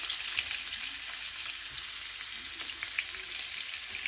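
A large onion fries in about two tablespoons of hot oil over medium heat, giving a steady, close hiss and crackle throughout with no voices.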